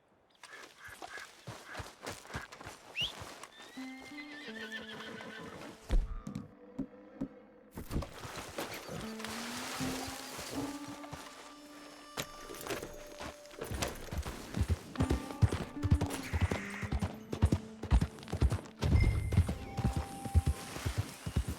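Hooves clop steadily on the ground in Red Dead Redemption II, a horse moving at a walk and then faster, with clear repeated thuds under music and ambient game sound. No distinct neigh stands out.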